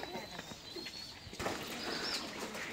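Native pigeons flock back home to their loft, with soft wing flutters and faint cooing spread over a quiet outdoor background that grows a little busier partway through.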